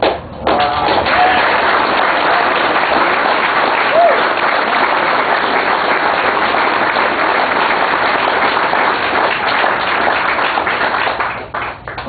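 Loud, sustained crowd applause at a Vietnam veterans parade and speeches event in Tavares, Florida, a dense clapping roar lasting about twelve seconds before tapering off at the end.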